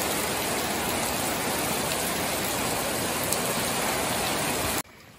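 Heavy rain pouring down during flooding in Pattani Province, southern Thailand, a loud, dense, unbroken hiss of downpour that cuts off abruptly just before the end.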